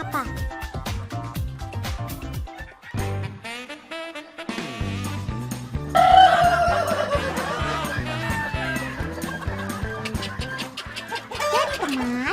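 Chickens cluck and squawk repeatedly while eating wet, water-mixed chicken feed, with lively, irregular calls close by over the whole stretch and short pauses between bursts.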